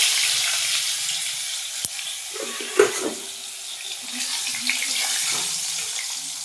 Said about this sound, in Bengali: তো দেখুন আলুগুলো ভাজছি।